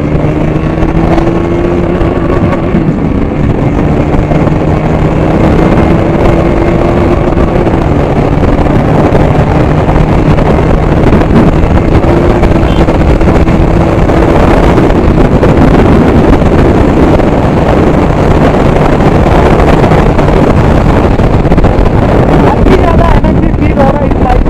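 A KTM Duke 200 motorcycle rides along an open road, its steady engine drone carrying throughout with heavy wind buffeting the microphone, no clear rev spikes.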